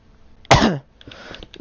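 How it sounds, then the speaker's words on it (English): A single short, sharp cough from a nearby person, loud and dry, with a brief breathy tail and faint room noise after. "I'm sorry if I cough when I think about it sometimes."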